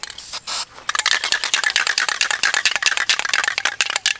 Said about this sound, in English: I have a little bit of polyacrylic, spray polyacrylic. I actually have a can also.